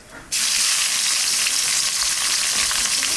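Nigella seeds and chillies drop into hot oil and sizzle at once, a loud, bright, continuous crackle that keeps going without a break.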